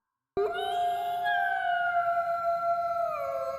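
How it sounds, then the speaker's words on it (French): A single long wolf howl used as a sound effect in a dark music track, starting abruptly and holding a clear sustained wavering tone that slides downward near the end, alone and prominent. "Cri de loup."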